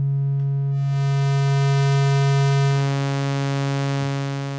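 Basic synthesizer oscillator tone, a steady buzzy pitched drone rich in harmonics that brightens suddenly and later shifts lower, played alone.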